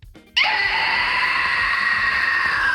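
A human voice imitates a pterodactyl screech with an inhaled scream: after a brief quiet start, a loud, piercing, sustained shriek begins abruptly close to the microphone and holds steady to the end.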